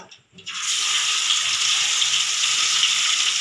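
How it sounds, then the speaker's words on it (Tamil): Chicken pieces frying in hot oil make a loud, steady hiss and sizzle. The sound begins abruptly after a brief quiet start, then continues unbroken. "கொஞ்சம் கொஞ்சமாக வறுத்துக்கலாம்"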